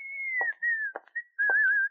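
A man whistles out loud in a radio drama, a clear bright melodic tune of sustained notes broken by a few short soft thumps, close and alone.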